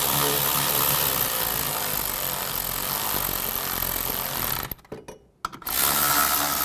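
A power tool tightens the rear wheel hub bearing bolts on a 2013–2015 Chevy Cruze in loud, buzzing bursts that run nearly continuously, broken by a short pause before the tool starts again.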